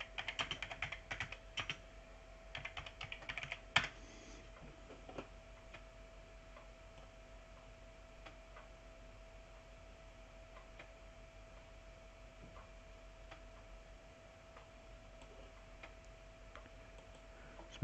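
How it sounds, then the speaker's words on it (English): Computer keyboard typing on an Amiga setup: a burst of quick clacking keystrokes early on, then sparse isolated key taps over a faint steady electronic hum. "Bloody keyboard."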